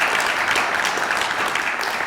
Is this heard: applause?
yes